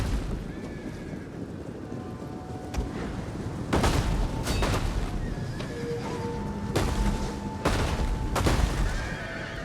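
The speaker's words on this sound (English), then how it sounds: "See, with every stone that comes in, many more cavalry die." Catapult stones slam into massed cavalry and troops during a Total War: Rome 2 battle, heard as several loud broadband impacts and booms over a steady battle din with horse whinnies.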